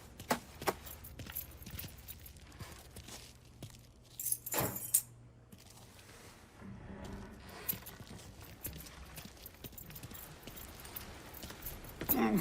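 Keys jangle in the Mafia Definitive Edition video game, with a brief, louder burst of metallic clinking amid quieter background game ambience and no talk.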